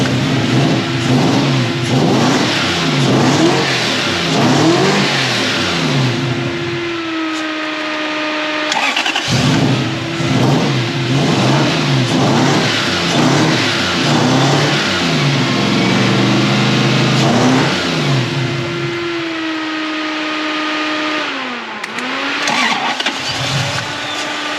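A Toyota 1UZ V8 engine in a Surf idles and revs repeatedly, its close, loud roar rising and falling through many throttle blips with short drops back to idle.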